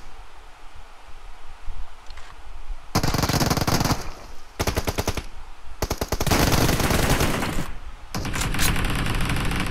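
Loud, close automatic gunfire from the shooter game BGMI comes in long sustained bursts separated by brief pauses, with a quieter stretch before the shooting begins.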